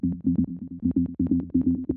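An acid 303-style synth preset plays simple, driving notes in a steady rhythmic pattern of short, punchy, close notes with a buzzy, resonant low-mid tone, heard alone in a techno production context.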